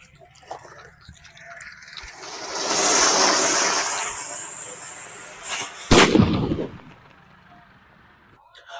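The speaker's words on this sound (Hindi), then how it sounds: "वो अनार भी था और भाई वो पटाखा भी था, क्योंकि भाई वो 2 तरीके से फूटा है।" A 2-in-1 anar firecracker set off during Diwali fireworks testing: a rising hiss of fountain sparks builds and fades, then a sharp loud bang bursts, followed by crackling that dies away.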